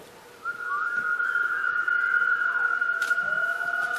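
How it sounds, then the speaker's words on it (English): A crowd at a trombone masterclass whistles together on one sustained pitch in F, a steady bright tone of many overlapping whistles, with a few voices sliding and wavering around it; no talking. "Can we all whistle in F?"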